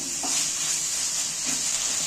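Meat coated in spice masala sizzles steadily in a wok, a continuous close frying hiss with a couple of soft stirring scrapes.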